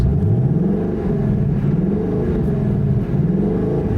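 A 2024 Ford Mustang GT with a 5.0 V8 in normal drive mode, revving close by in repeated rising and falling pulls, a deep loud rumble swelling and easing with no talking.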